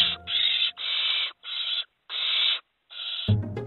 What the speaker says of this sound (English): But it's no easy task when Tawny Owls Bomber and Luna are constantly chasing Finn down